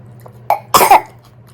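A single close cough, a short throaty burst followed by a louder harsh cough, then quiet.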